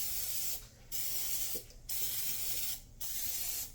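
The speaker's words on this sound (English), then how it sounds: "Alright, spray butter." Spray butter hisses from a can onto a preheating breakfast grill in several short bursts, broken by brief pauses, close and fairly loud with no talking.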